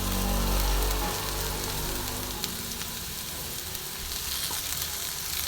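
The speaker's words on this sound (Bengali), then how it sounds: "ভালো মতন ফ্রাই করে নেবো" Onions and crushed garlic fry in a pan, a steady close sizzle and crackle that starts loud and settles into a softer, even hiss with no talking.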